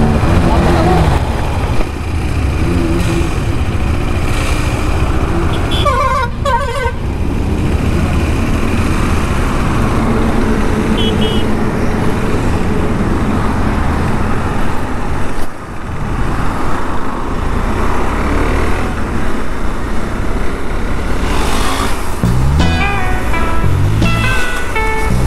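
A group of KTM motorcycles on a Republic Day ride toward Lonavala, engines droning steadily under wind and road noise, with passing traffic and bursts of horns, while a rider talks over it.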